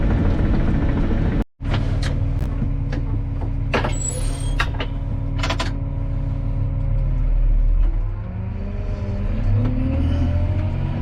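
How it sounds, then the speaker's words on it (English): Motor grader engine rumbling loudly up close while leveling a waterway after rain, a deep steady diesel drone with brief clanks and a rising rev before settling lower. "I've got it dressed off with the motor grader. This is the last pass."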